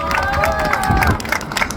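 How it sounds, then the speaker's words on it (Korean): A rally crowd claps and cheers in a steady, dense wash of applause from many hands, with a voice briefly audible over the noise. "박수 부탁드립니다"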